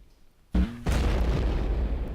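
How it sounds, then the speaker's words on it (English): Grenades dropped on the ground in the 2001 video game LindenWorld to terraform land: a sudden loud boom followed by a sustained roaring rumble, with no speech. "We spent a lot of time dropping grenades on the land to terraform."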